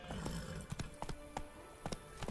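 Quiet, uneven hoofbeats of a horse in The Witcher 3: Blood and Wine thud in a loose galloping rhythm, a handful of soft clops spaced across a couple of seconds.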